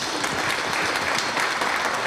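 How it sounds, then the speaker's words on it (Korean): An audience claps steadily and loudly in a hall at the inauguration ceremony of a new chairman of the Cheonan-Asan crime victim support center. The applause is dense and even, and it fills the whole stretch with no voices on top. "다시 한번 뜨거운 격려의 박수를 부탁 올리겠습니다"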